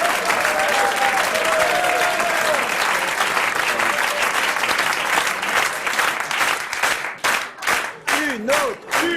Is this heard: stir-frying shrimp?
no